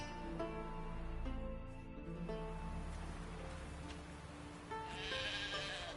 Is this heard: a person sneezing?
no